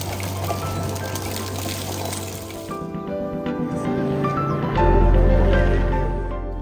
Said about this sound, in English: So the spring is coming out from here.